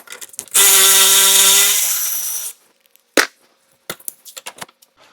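An impact or power tool whirs loudly for about two seconds as it spins off an anti-roll bar link nut on a Skoda Fabia, followed by a sharp metallic clack and a few lighter clicks and knocks of tool handling.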